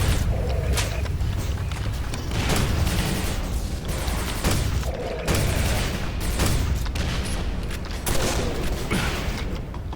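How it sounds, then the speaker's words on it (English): Grenade blasts and rapid gunfire in the first-person shooter Quake 4, heavy booms and dense shooting filling the whole stretch, loud and continuous with no talk over it. "that was my own grenade"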